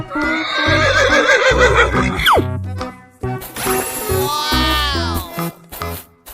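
A cartoon horse neighs and whinnies in a 3D animal slide video game, loud whinnies cutting through bouncy background music and game sound effects.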